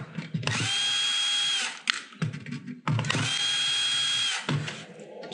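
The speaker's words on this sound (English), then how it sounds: "I'm gonna use a screw gun for this" A cordless screw gun whirs in two sustained, high-pitched bursts, each ending with a brief clatter, close and loud with no talking.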